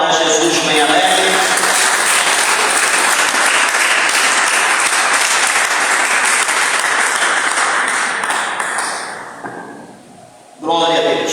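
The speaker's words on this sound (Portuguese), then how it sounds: "dê uma salva de palmas para Jesus bem alegre" A church congregation claps joyfully for Jesus during a worship service, loud dense applause filling the room for several seconds, thinning and dropping away near the end before a burst of sound returns.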